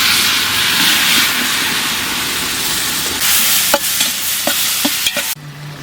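Tomatoes, about 600 grams, fry and get stirred in a pot for mutton biryani, giving a steady close sizzle with a few sharp utensil clacks near the end.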